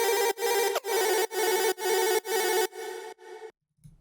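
An electro house synth patch with pitch LFO, chorus, reverb and left-right panning pulses in seven loud, evenly spaced wobbling bursts that fade out, followed by near silence.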